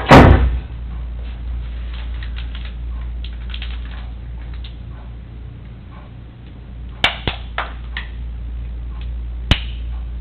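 A door closes with a loud thump in a police interview room, then a few sharp clicks and taps follow over a steady low hum.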